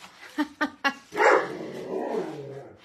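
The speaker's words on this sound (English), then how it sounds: "I've been trying to teach Moose not to bark full throttle" A dog barks three times in quick succession, fairly close, then lets out a longer, muffled growling bark as the neighbour's dog passes out front.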